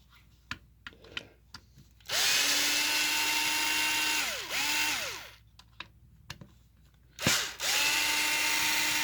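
An old Sears Craftsman 3/8-inch variable speed reversible drill runs in loud bursts, its motor whine ramping up and down between speeds, with short pauses, trigger clicks and handling noises between runs.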